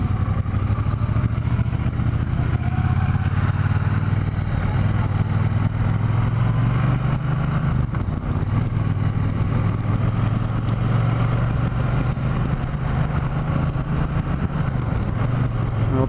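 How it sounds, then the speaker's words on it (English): A 1983 Honda CX650 Turbo motorcycle being ridden, its engine droning loud and steady throughout with heavy wind rush and no voices. "Jerry is riding my 83 CX650 Turbo Honda"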